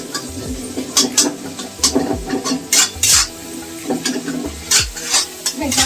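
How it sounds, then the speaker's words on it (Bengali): Potato bhaji frying in a pan, sizzling steadily while a utensil stirs and scrapes it in repeated bursts, close and loud with no talking. "আর এদিকে আলু ভাজিটা হচ্ছে"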